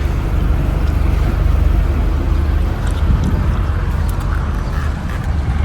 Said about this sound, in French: Et ça va être une journée au moteur.